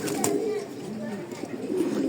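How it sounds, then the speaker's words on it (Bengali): Pigeons in a loft cooing while they bathe, low soft coos close by over a busy background with some splashing, and a voice faintly present. "আমার লফটের একাংশ কিছু কবুতর দেখেন গোসল করতেছে"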